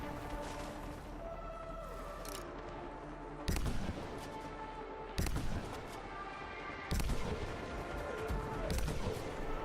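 Gunfire from a weapon in the video game Anthem: three loud, sharp blasts at spaced intervals over a busy bed of game effects and music.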